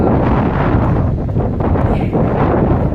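Steady wind blows outdoors in a garden behind a dormitory in Hirakata, Japan, on a day of light fine snow, a continuous broadband rush buffeting the microphone throughout with no talk.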